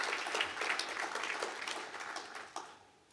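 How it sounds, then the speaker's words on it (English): A graduation audience gives BSBI a round of applause, a scattered clapping that starts fairly full, thins out gradually and fades to near quiet by the end, with no one speaking. "Please, can we give a round of applause to BSBI?"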